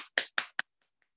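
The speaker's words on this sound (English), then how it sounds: "Can you give yourself a ketchup clap?" Children do a rhythmic ketchup clap, three sharp claps in quick succession with a fourth lighter one, close and alone, then quiet.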